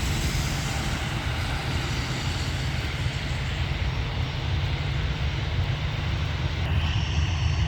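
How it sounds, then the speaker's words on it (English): An EasyJet Airbus A320 departs Manchester Airport in heavy early-morning rain, a loud, continuous jet engine roar that holds steady with rain hiss mixed in and no talking. "EasyJet Airbus A320"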